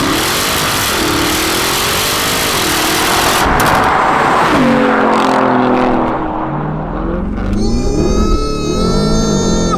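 A Porsche Cayenne Turbo GT accelerates hard, its engine roaring loud and close as revs climb and drop through gear shifts, ending in a high-pitched whining rise, with no talk over it.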